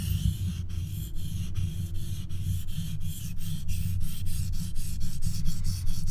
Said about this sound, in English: let's get sharpening